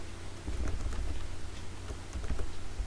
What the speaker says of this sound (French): je rappelle la commande avec la touche fléchée vers le haut de mon clavier